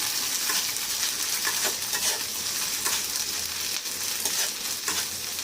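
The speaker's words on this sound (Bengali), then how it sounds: "একটুখানি জিরেটা ভেজে নিলাম।" Ground cumin paste frying in a pan with ginger and garlic for khichdi, a steady close sizzle with soft stirring scrapes running throughout, no talking.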